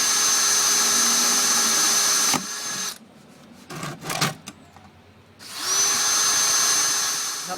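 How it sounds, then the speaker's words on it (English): A power drill bores drainage holes in plant pots, a loud high whine that runs for about two seconds, breaks off into short scraping bursts, then whines steadily again. "I need to drill some holes in these pots to make sure that it doesn't flood the roots."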